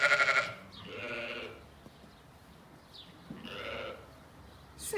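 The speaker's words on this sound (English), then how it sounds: "2, 3, 4, 5 lambs. Yes, 5 lambs." Several lambs bleat in short, repeated cries, some loud and close at the start and others fainter, with quiet farmyard background between calls and no talk.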